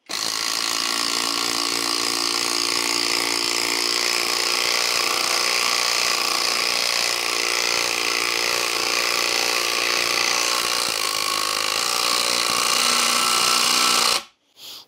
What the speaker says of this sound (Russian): Давайте посмотрим, как справится с этим делом винтоверт.